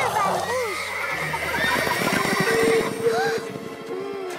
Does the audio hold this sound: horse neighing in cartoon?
yes